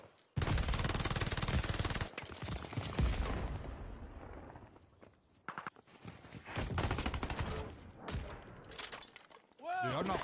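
Loud bursts of rapid automatic gunfire and shattering impacts in a video game gun game mode, with a player talking between the volleys.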